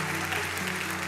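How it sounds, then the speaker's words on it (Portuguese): A church congregation applauds during a worship service, a continuous wash of clapping from a large room with a sustained musical drone underneath. "Se você crê, aplauda o Senhor Jesus, se coloque de pé."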